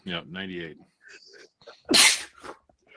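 One sharp, loud sneeze breaks in among people chatting on a morning radio show, a short burst that stands out between stretches of talk.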